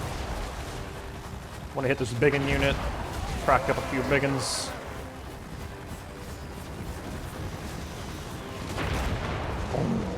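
Artillery volleys booming across a battlefield in Total War Warhammer 3 as a dwarf line fires on orcs, rumbling blasts and explosions heard beneath steady commentary.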